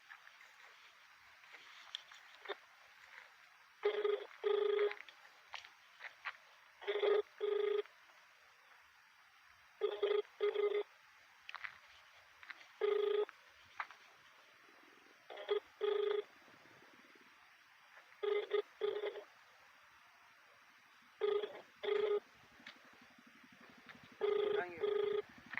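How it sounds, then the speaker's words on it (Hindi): A phone call to a district collector rings out over the line: paired ringback tones repeat every few seconds, moderately faint, with quiet room noise between them. "आज ये हमने फ़ोन लगाया कलेक्टर महोदय जी को"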